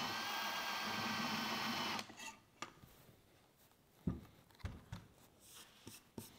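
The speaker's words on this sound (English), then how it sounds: "I'm gonna try this handheld drill press" A handheld drill press bores into a wooden serving tray, a steady close motor whine for two seconds that cuts off, followed by scattered knocks and clunks of handling.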